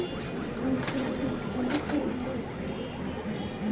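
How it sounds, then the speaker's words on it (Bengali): Pigeons cooing at close range with soft, low, repeated coos, mixed with brief wing flaps and rustling in a pigeon keeper's loft. "আসুন না এখন আমরা কবুতরগুলো দেখি"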